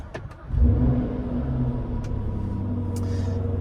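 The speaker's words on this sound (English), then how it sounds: "once we've started up the supercharged V8 with the start-stop button there" A supercharged V8 in a Jaguar XKR-S fires up from the start-stop button, catching with a brief rev near 0.5 seconds and then settling into a steady, close, low idle rumble with no talking.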